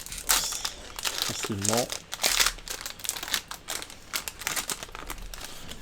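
A Pokémon card booster pack being torn open, its foil wrapper crinkling and crackling loudly up close while a person talks over it.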